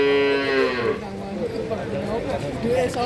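A calf or cow at the Jatirogo cattle market gives one loud, drawn-out moo that lasts about a second. Market chatter and background talking continue underneath and after it.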